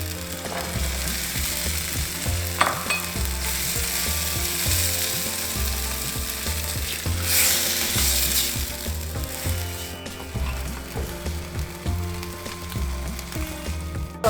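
Chickpeas (chana) tipped into hot spices for chana masala sizzle and fry steadily in a pan, with repeated scraping and stirring knocks over the continuous crackle and no talking.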